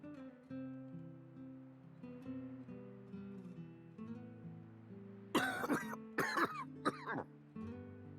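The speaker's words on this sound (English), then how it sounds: "Just a pesky little cough." A game character in Xenoblade Chronicles 2 coughs in a short burst of three or four harsh, throaty coughs, heard over a soft melodic music background.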